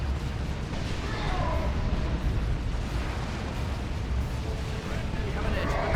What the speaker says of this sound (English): This is going to be another rocket run.